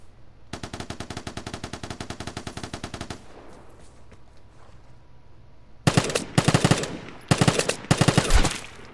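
Gunfire in the video game Vigor: a sustained burst of rapid automatic shots for about three seconds, a brief pause, then several further short bursts of close, sharp fire.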